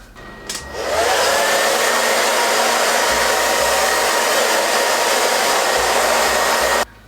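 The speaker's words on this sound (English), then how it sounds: "I'm gonna blow dry it for you because I gotta see the results now" Hair dryer blow-drying freshly dyed purple hair, switching on after a short click and then roaring loud and steady for several seconds before cutting off, with no voices.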